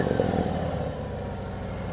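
A Harley-Davidson CVO Road Glide engine rumbles up close, a loud low throbbing idle that starts with a slight rev and then settles into a steady, even beat with no talking.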